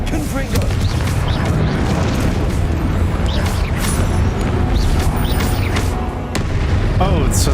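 Spell blasts and explosions from a video game hit in a dense, loud, continuous rumble of booms and bursts while a voice talks excitedly over them.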